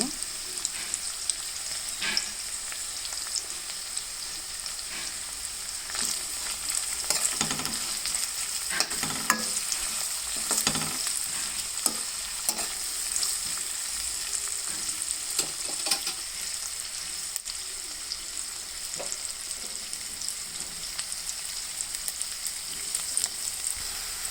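Onion pieces fry in oil in a pan for an amaranth (thota) curry with dry red chillies, a dense steady sizzle heard close up throughout, with occasional stirring scrapes and no speech.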